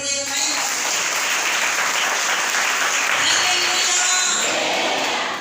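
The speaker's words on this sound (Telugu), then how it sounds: "చప్పట్లు" A congregation claps together in a prayer hall during Sunday worship, a loud, dense burst of applause that fills the room steadily for several seconds before tapering slightly.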